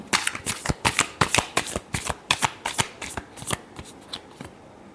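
Tarot cards shuffled by hand in a steady run of crisp riffling bursts, about twenty quick slaps and flutters in close succession, near and distinct with no talking.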